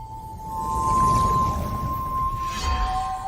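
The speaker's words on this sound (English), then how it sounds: "a terrifying whistle that makes your hair stand up." A high, steady eerie whistle from a DreamWorks film villain holds one tone over a low rumbling wash, sustained and unsettling throughout, with no talking.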